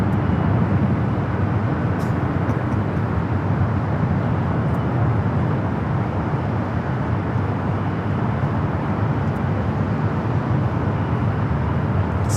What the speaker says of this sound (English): Speedbird heading back to London Heathrow, that 777-300ER